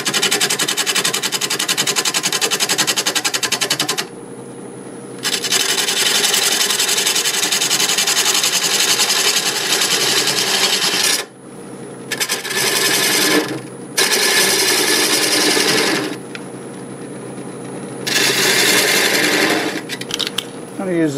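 A wood lathe spins a mimosa wood vase at about 600 RPM while a 3/8 bowl gouge shapes it, giving a loud, steady broadband scraping that cuts in and out in long bursts with short pauses between passes.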